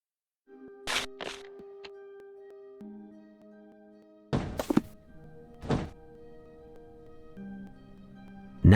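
A heavy cannon is pushed in the Sherlock Holmes Versus Arsene Lupin video game at the Tower of London, several loud, sharp thunks standing out over sustained tonal game music.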